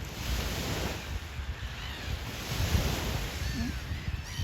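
Waves of Lake Geneva, Switzerland, washing and rumbling steadily, with wind buffeting the microphone; no one speaks.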